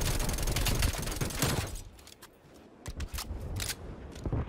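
Rapid strafe-run gunfire in Black Ops Cold War roars loudly at first, then thins into scattered sharp cracks and pops with short pauses between bursts.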